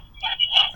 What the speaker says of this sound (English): The ringer's going off.